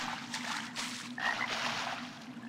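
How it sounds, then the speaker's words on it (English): Frog croaking inside the dark fantasy dungeon game Arx Fatalis, a steady low droning pulse under ambient hiss, moderately loud and continuous with a brief higher chirp partway through; no talking. "Where is that frog? It's so loud."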